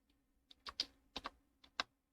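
Keys tapped on a computer keyboard while working in Fusion 360 3D modelling software, a handful of sharp, close clicks in irregular succession against a quiet background.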